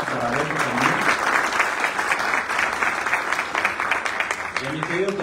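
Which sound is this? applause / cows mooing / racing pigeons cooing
applause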